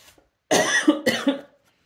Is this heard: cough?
yes